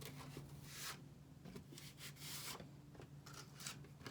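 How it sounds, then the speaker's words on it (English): A hand rubs across charcoal sandpaper in soft, raspy strokes, several short scrubbing passes repeating closely and quietly with no talking. "touch my hand to some of this charcoal sandpaper"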